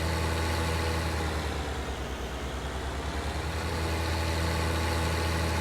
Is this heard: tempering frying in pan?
no